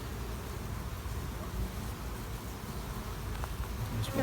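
Honeybees buzz around an open hive during queen rearing, a dense, steady hum close by with faint handling noises.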